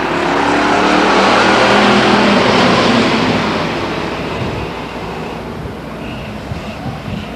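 Pure stock cars race at Stockton 99 Speedway with a loud, dense engine roar that swells as the pack sweeps past, then eases into a steadier, more distant drone.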